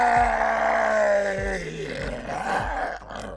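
A pitched-down death scream reshaped into a deep monster groan for creature sound design, sustained and loud with a descending, growling tone and rhythmic low pulses, heard alone without talk.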